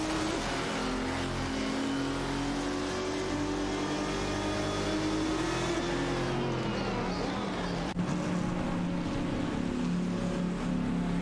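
Race cars in a video game race, including a Lamborghini Murcielago RGT and a TVR Speed 12 GTS, produce a continuous engine roar with shifting pitch that drops near the end, under a faint voice.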